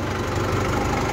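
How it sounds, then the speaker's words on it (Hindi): A tractor engine runs hard, a steady, loud mechanical rumble held at high revs for a brief moment. "भूपिंदर भाई रेस दियो, रेस एक बार इस साइड से पैर वाली देखियो"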